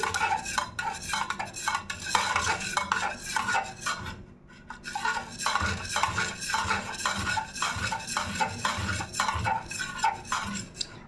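A utensil stirs melted wax as fragrance is blended in for wax sachets, giving a steady, close scraping and clinking against the container that runs almost without pause, with one short break midway.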